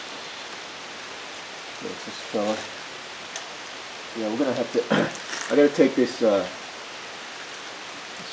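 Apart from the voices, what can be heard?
background rain falling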